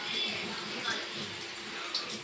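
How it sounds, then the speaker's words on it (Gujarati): Water runs steadily from a household tap, splashing softly and fairly quietly as a small child plays in the stream, with faint talk underneath. "નળ ચાલુ કરી દો ને એટલે એને પાણી પકડે જુઓ"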